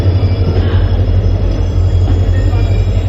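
The Mysuru–Talaguppa Express stands at a station platform, a loud steady rumble of idling engine and rail cars with a continuous low hum and faint background voices.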